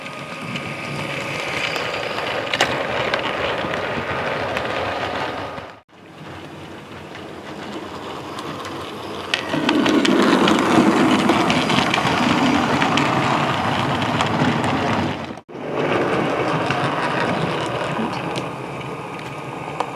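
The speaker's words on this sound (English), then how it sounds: "first train of the day is the branch train" A model railway branch train to Abbotsbury at a junction layout runs past with a continuous mechanical rattle and whirr of wheels and gears, swelling louder midway, with two brief drop-outs.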